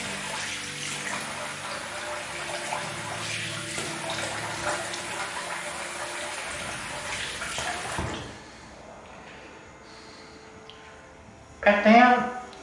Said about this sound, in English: So I'll give it a rinse.